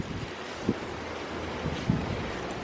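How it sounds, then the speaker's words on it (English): Steady wind rushing across a vegetable garden with bean plants, a continuous broadband roar with a couple of brief low thumps of gusts hitting the microphone. "You can see how windy it is right now."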